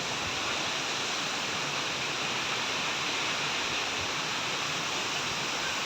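Steady roaring rush of the waterfall at Kutralam, a dense continuous wash of noise without breaks, loud and close throughout.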